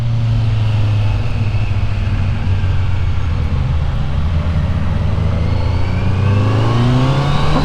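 A Kawasaki Z900 motorcycle in rain mode accelerates hard, its engine note climbing steadily in a loud, continuous close-up drone with rising pitch throughout.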